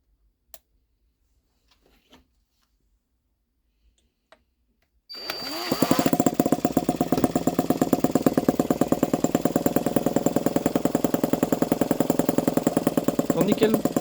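After a few faint clicks and taps, a miniature 2.2cc four-stroke engine fires up and settles into a loud, rapid, steady buzzing run that continues to the end, close by.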